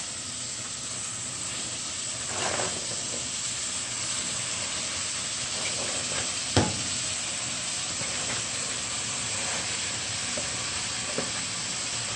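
Cabbage fries in a pan with corned beef, a constant dense sizzle and hiss throughout, close up, with a few faint clinks and stirring knocks from a utensil.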